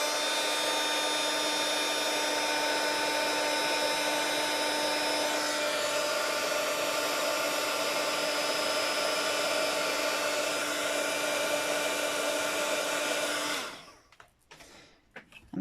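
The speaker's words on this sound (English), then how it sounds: "I should heat emboss that one" A heat gun used for heat embossing blows with a steady, fairly quiet whine and whoosh for about thirteen seconds, then switches off into near silence with faint handling noises.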